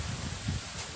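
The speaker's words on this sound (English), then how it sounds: "It's really windy" Wind gusting across an outdoor plot of Saba bananas in Thailand, heard as a continuous, fairly loud rumble with rustling and low buffeting against the microphone, surging in a couple of gusts over one second.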